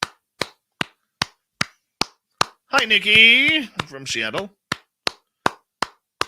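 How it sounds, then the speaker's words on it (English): A single person claps hands in a steady rhythm, about a dozen sharp, close, evenly spaced claps, briefly pausing while a voice speaks in the middle before the clapping resumes. "I'm going to clap for all of you."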